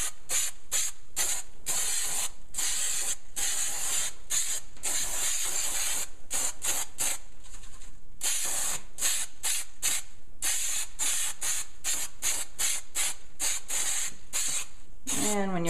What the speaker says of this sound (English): I'm going to spray inside the bag here. Again, keep shaking the can every so often.